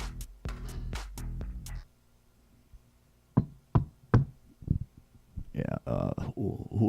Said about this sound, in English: You'll hear a knock at the door.